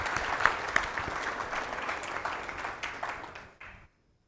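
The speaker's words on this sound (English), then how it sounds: "Let's give them a round of applause." A conference audience gives steady applause as panelists on agile development and testing walk onto the stage, a dense wash of clapping that holds evenly for a few seconds before quickly dying away.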